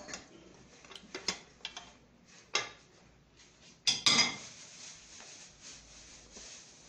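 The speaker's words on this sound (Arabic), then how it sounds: "عندي هنايا لا كوكوط، نضيف قطع اللحم" Pieces of lamb meat drop into a cocotte pot, giving a handful of sharp clinks and thuds against the metal, several spaced hits with a louder cluster midway, close and otherwise quiet.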